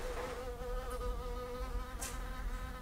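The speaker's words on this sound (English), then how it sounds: "There's like a bee." A bee buzzes steadily inside an abandoned mansion, a continuous close droning hum with slight shifts in pitch, heard alone without talk.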